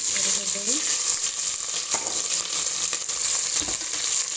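Onions fry in hot oil with cumin and curry leaves inside a pressure cooker for rasam, making a loud, steady, close sizzle with occasional stirring clicks.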